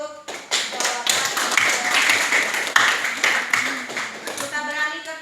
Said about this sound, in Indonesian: Beri aplaus untuk jawaban.